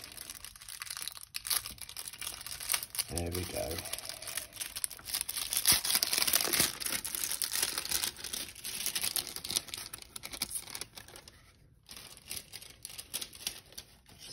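Plastic wrapping on a small tarot deck nicked with scissors and torn open, quiet close crinkling and tearing with a brief rasp of ripping film, a short remark spoken near the end.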